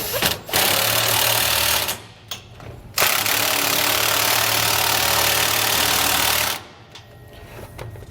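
An impact wrench tightens bolts on a Roadmaster rear anti-sway bar fitted to a 2019 Coachmen Pursuit motorhome, giving loud, sustained buzzing bursts close by, broken by a few short pauses.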